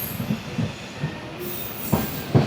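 A passenger train runs nonstop along the coastal line toward Okha in Gujarat, with a steady rolling rumble and recurring wheel clacks on the rails, heard from on board.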